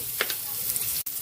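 Chopped onion sizzles in a hot frying pan with a steady hiss, with a couple of brief stirring scrapes and a short sharp click near the end.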